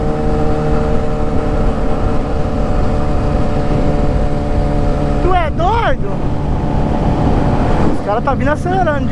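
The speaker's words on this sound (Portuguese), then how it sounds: "Tá vindo acelerando de novo, ó." Honda Titan motorcycles accelerating on a highway, a loud, steady engine drone throughout with rising and falling revving sweeps as machines pass near, around the middle and again toward the end.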